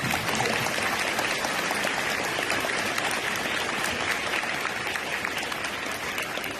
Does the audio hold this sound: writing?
no